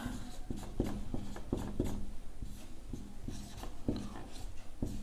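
Pen or chalk writing out a class 10 maths solution, a steady run of scratchy strokes and small taps at an uneven pace, close and moderately quiet over a constant background hiss, with no speech.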